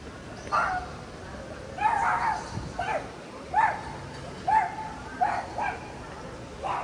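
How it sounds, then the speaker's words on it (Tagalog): A dog gives a series of short yips and barks in an evenly spaced run of about seven sounds, near and moderately loud, inside a compound. "Cute no aso."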